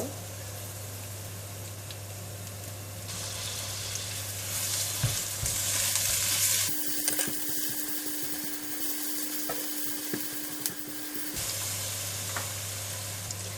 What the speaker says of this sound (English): Garlic is turning brown, so I'm putting in the chili paste